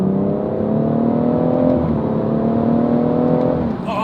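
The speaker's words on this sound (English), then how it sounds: "Oh, the car pulls so fast." A BMW M140i accelerating hard, its engine note climbing steadily and loudly from inside the cabin, a smooth rising drone that holds for several seconds before easing off at the end.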